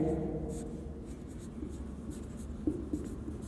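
Chalk or marker scratches across a board during a college math lecture, with steady light writing strokes heard under the lecturer's speech throughout.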